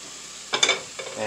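Diced potatoes and carrots stirred around in a soup pot for lentil beef bacon soup, a short burst of scraping and sizzling after a quiet moment, then a lighter second scrape, close and clear.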